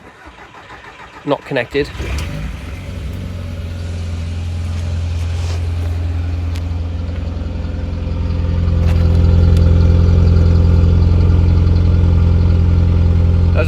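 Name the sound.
early 2000s modern classic car engine starting and idling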